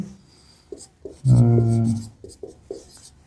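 Handwriting a math expression, the algebra x² − 5x + 6, with a series of short scratchy pen strokes that come up close. In the middle they are interrupted by a louder burst of a voice.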